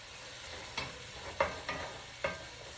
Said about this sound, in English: we're sauteing some cabbage